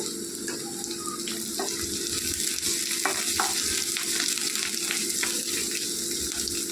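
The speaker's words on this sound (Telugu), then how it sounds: "ఇలా కట్ చేసి పెట్టుకున్న మిర్చి కూడా వేసేసుకొని వేయించుకోవాలి." Cut green chillies frying in a pan for a traditional Nellore egg and mango curry, a steady close sizzle with scattered stirring clicks and scrapes.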